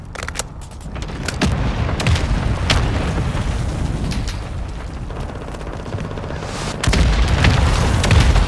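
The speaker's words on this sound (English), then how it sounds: "Friendly mortar strike on the way." Mortar strike explosions in a Call of Duty MWII multiplayer match: loud, continuous deep rumbling booms layered with sharp cracks and bursts, dense throughout and swelling louder near the end, with no talking.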